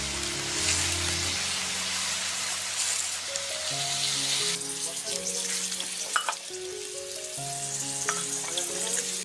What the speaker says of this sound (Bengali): আমরা এতে এবার পরিমাণ মতো জল দিয়ে দেবো